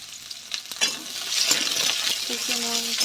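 Two large chopped onions drop into hot oil in a frying pan with a bay leaf, setting off a rising sizzle broken by a few metallic clinks of a spoon stirring against the pan.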